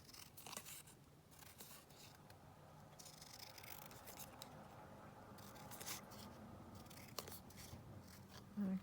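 Scissors snipping through stitched journal cards, a close, quiet series of irregular cuts and rustles over several seconds with no talk.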